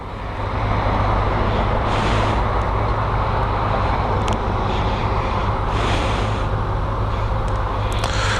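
A motorcycle pulls away in touring mode as the throttle is twisted, a loud continuous engine and wind roar that holds steady for several seconds, close and filling the whole scene.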